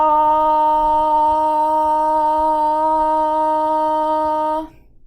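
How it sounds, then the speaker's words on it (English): A loud, steady sung "ah" vowel held evenly for about four and a half seconds during a Parkinson's disease voice exercise, then cut off abruptly. "you're going to hold that loud ah for 5 seconds"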